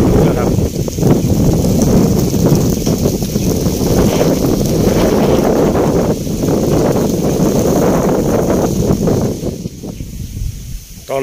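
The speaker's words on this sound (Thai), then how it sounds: "ตอนนี้ผมก็ลงที่กระท่อมไร่นานะครับซึ่งมีลมเยอะมากเลยครับ" Strong wind gusting around a farm hut on rice fields in a tropical rainforest during the cool season, a steady broadband roar close to the microphone that eases slightly near the end.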